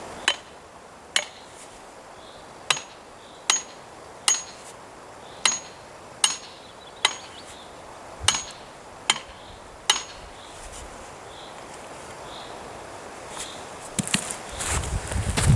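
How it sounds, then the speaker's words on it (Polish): A metal hammer gently taps an axe handle down into its axe head, producing a dozen sharp, ringing knocks at roughly one-second intervals, close and clear, followed by louder shuffling and handling noise at the end. "Generalnie potrzebowalibyśmy do tego drewniany młotek, ja takiego akurat tutaj nie mam, także będę delikatnie pobijał e, tym metalowym."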